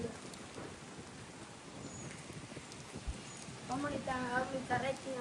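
Soft steady rain hiss over a rooftop garden fills the background, with a low thump of distant thunder and a voice talking near the end.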